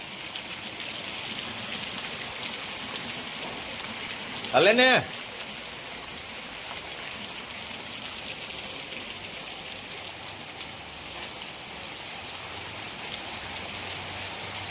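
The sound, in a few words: rushing floodwater after heavy rain in Porbandar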